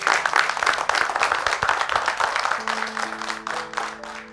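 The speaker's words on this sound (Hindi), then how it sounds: "नीलोत्पल का जोरदार तालियों से स्वागत किया जाए" An audience welcomes a guest with dense, loud applause that fills the space at first and then thins out toward the end, while a steady tone rises beneath the clapping.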